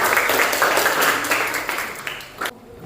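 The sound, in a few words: class applauding a classmate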